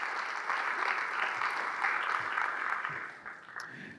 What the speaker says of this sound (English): let's give all of our investors that right now are investing in the center of the city, in the west, a big round of applause.